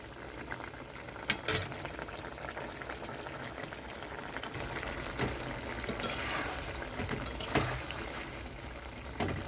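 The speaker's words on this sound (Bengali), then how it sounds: "তো এখানে ঝোলটা ফুটে গেছে," Fish curry with potatoes bubbles and simmers steadily in a pot, a continuous busy gurgle with occasional clinks of a utensil.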